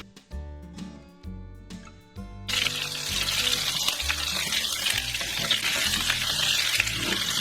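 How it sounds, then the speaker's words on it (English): Meatballs sautéing in a pan, a steady bright sizzle that starts after a short stretch of music and then continues, close and fairly loud, with music still underneath. "we're going to saute them for about 8 minutes"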